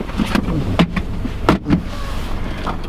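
The manual soft top of a 2016 Mazda MX-5 Miata Grand Touring convertible is unlatched and swung open and shut, giving a few close fabric rustles and sharp clunks of latches and frame against a quiet interior.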